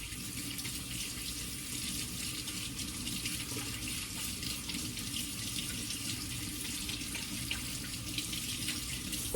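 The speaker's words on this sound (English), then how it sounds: "let me wash my hands real quick" Tap water runs steadily into a kitchen sink while hands are washed, a continuous close broadband splashing hiss with slight fluctuations and no talking.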